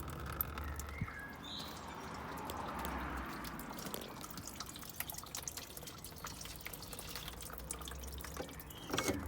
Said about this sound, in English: the coolant comes out. So let it all drain out slowly